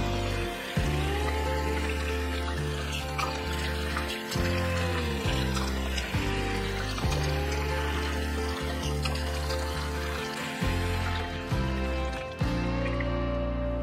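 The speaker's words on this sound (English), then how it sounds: "so I'm going to rinse my face." Running water from a tap splashes as a turmeric face mask is rinsed off the face, a steady close rushing flow with small interruptions from hands moving through it.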